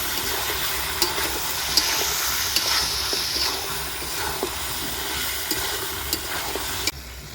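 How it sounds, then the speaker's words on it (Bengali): Chicken sautéing in a pan with turmeric and Kashmiri chili powder, a steady broadband sizzle and hiss with occasional soft scrapes and clicks of stirring, close and continuous without talk. "মাংসটা কষে নেব।"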